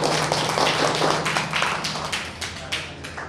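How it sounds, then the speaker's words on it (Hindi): An audience clapping loudly for a Holi-season recitation, a dense stream of close, sharp claps lasting a few seconds without speech. "जोरदार ताली हो जाए।"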